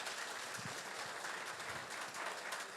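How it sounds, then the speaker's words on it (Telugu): An audience claps together in a steady wash of applause, even and continuous, heard faintly at a distance. "ఒక్కసారి గట్టిగా క్లాప్స్ కొడితేనే"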